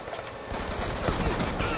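Rapid gunfire crackles through a match of Black Ops 2 on Nuketown 2025 in Demolition mode, a dense, continuous burst of shots close by with no clear gaps.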